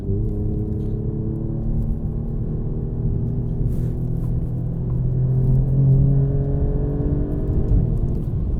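An Alfa Romeo Giulia Quadrifoglio drives on cold air with a steady, loud engine drone and low rumble inside the cabin, the pitch rising gently as it accelerates, with no speech heard.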